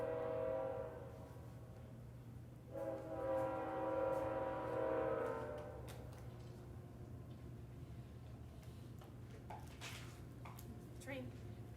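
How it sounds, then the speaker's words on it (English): A passing train sounds its horn in two sustained blasts, then rumbles on quietly in the distance under a steady low hum, with someone talking over it. "Train."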